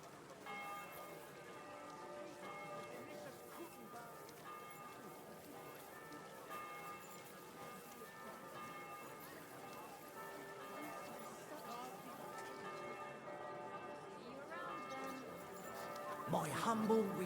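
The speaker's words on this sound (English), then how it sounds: "Sound the bells." Church bells in the video game Kingdom Come: Deliverance 2 ring steadily at a distance, overlapping tones sustained throughout, with a low background and a brief louder clatter near the end.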